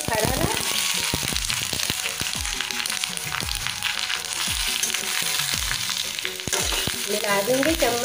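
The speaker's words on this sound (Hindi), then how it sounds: "ये देखो संगवारी हो, हमारे फरा में बघार लग गए।" Fara, a steamed rice dumpling, crackles and sizzles loudly in a hot tempering pan with sesame seeds, with frequent sharp pops and spoon stirring, and a voice speaks at times over the frying.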